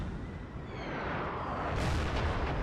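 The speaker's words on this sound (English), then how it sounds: "Their artillery is starting to attack." Artillery fire in the video game Total War: Napoleon, a faint, muffled rumble of distant cannon blasts rolling together over a few seconds, with no voices.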